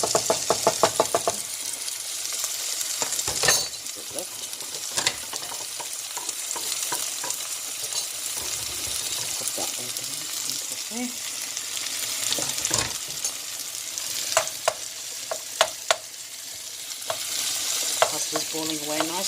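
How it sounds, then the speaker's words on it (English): Bacon sizzles in a pan while being stirred, a steady frying hiss broken by scraping and knocking of the utensil against the pan, fairly close, with no talking. "So now I'll just put the bacon in"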